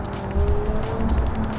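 Car tires squealing and slipping in BeamNG.Drive, a Project Binky Mini sliding with a steady engine drone and a thin sustained squeal tone, loud and continuous for the whole stretch.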